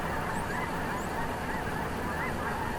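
Canada geese honking over a cut wheat field during a late-season hunt, with a continuous dense chorus of many calls at a steady moderate distance and no speech.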